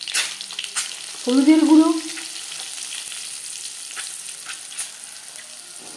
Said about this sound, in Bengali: তেল গরম করে নেওয়ার পর দিয়ে দেব ডিম